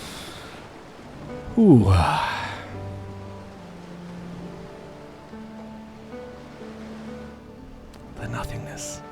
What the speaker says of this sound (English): Can you hear just the sound of the waves?